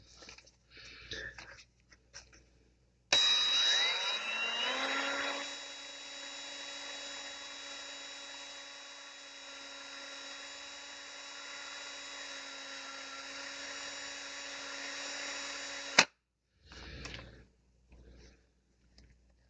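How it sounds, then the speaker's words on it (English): A 3D printer nozzle tip is sanded with 400-grit abrasive, heard as a high-pitched, steady motorized whine that starts abruptly, holds for about thirteen seconds and cuts off sharply, with quiet handling noises before and after. "And now we use the 400 grit."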